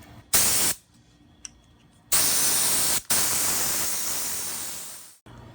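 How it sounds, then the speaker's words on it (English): A cheap paint spray gun, run by a compressor, sprays acetone to clean itself out in several loud hissing bursts: one short blast, then a long sustained spray that is briefly interrupted and then slowly fades. "Now I'm going to put some acetone in, and then we're going to spray it to clear everything out"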